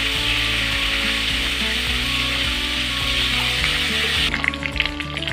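Potatoes frying in a pan for an aloo karela chorchori, a loud steady sizzle with faint clatter beneath, turning patchier and crackly in the last second.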